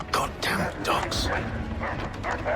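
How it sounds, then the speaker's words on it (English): Dogs in the video game Assassin's Creed 3 give several sharp barks and yips in quick bursts, close and loud, mixed with shouting voices and mechanical clatter. "Goddamn dogs."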